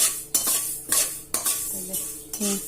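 Fenugreek seeds dry-roasting in a pan for a curry leaf chutney, with a spoon scraping and clinking against the metal in repeated strokes about every half second over a faint sizzle.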